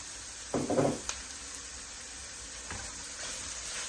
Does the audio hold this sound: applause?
no